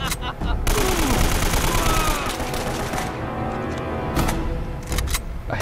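Dense gunfire from the video game Uncharted: Drake's Fortune, loud rapid bursts and single shots layered over a busy action soundtrack, with a voice talking faintly underneath.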